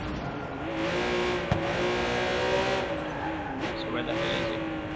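A car in Watch Dogs 2 driven hard, its engine droning steadily with tires squealing and skidding through turns, loud and continuous with a sharp knock partway through.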